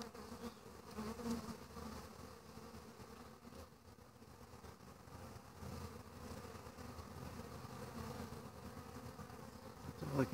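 Honey bees buzzing at a hive entrance, a steady, faint, close droning hum with some individual bees swelling louder as they fly past, no voices.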